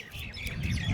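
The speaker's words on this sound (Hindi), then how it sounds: "चिड़िया वहाँ पर बोल रहा है" A bird chirps from a tree outdoors, a short, fairly faint call over low background rumble.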